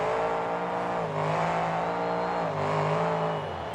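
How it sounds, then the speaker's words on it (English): A monster truck at a KORR Monsters event in an Atlanta arena roars loud and continuous while spinning donuts on the floor, its engine screaming with rising and falling pitch sweeps over a constant crowd-filled din. "So you can hear that engine just screaming down there."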